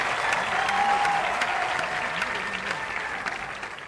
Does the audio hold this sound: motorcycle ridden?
no